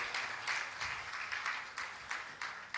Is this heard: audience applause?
yes